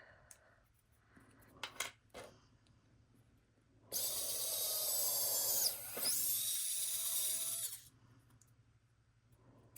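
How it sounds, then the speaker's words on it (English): A power drill whirs steadily for about four seconds as it bores back through holes in resin-coated wooden orange-slice earring pieces, loud and close, with a brief dip mid-run, preceded by a few light handling knocks. "I am going to take my drill and I'm going to open them back up"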